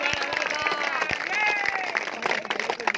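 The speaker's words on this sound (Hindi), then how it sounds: "ताली होनी चाहिए।" A crowd at a cricket tournament prize ceremony applauds a bowler's award, scattered and sustained clapping throughout with an announcer's voice and crowd murmur mixed in over it.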